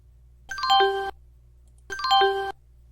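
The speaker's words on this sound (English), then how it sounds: "Oh, I guess the chimes are the same." Early Windows system chimes from a VirtualBox virtual machine: two separate bright, bell-like chord tones, each ringing about half a second, on a faint steady hum.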